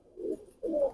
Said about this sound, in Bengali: এখানে এক জোড়া দেশি কবুতর দেখছি